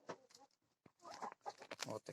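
Chickens of breeds such as Borki and Poltava clay in a pen with adult hens, giving faint, close clucks and short calls in uneven bursts.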